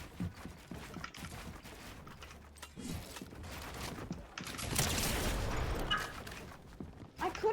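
Gunfire during a 1v1 match in the Fortnite video game, heard as scattered sharp shots and a denser burst of rapid fire toward the middle, mixed with game noise at moderate loudness.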